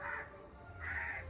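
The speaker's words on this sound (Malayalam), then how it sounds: "ഇതാ ഇവിടെ ഈ ഒരു കാക്ക ഭയങ്കര കരച്ചിൽ കേട്ട്" A crow gives two harsh caws, one at the start and one near the end, fairly faint and somewhat distant against a quiet background.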